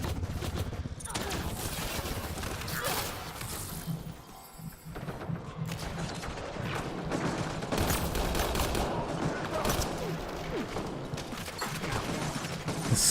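An assault turret in a video game fires repeated gunshots and rattling bursts, loud and close, with a short lull around the four-second mark. Speech runs over part of the firing.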